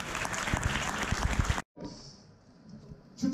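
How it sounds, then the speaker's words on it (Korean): A crowd at an NVIDIA GeForce Gamer Night launch event applauds loudly for about a second and a half, then the sound cuts abruptly to a quiet room tone. "박수 부탁드리겠습니다"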